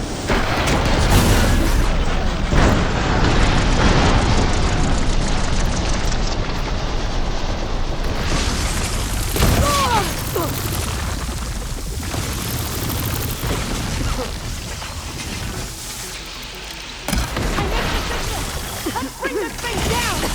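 Heavy booming blasts and crashing impacts from grenades in Horizon Forbidden West, a loud, dense, sustained battle din with several big bursts over twenty seconds and a voice talking at points.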